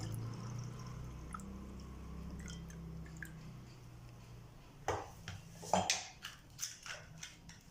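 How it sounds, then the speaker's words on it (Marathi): A wooden churner whisks a sattu drink of roasted chana flour in water. A low steady hum comes first, then a run of close, irregular wet sloshing and squishing bursts in the second half, with no talk. "एक मिनिट मिनिटभर मी घुसळून घेतलं रवीने"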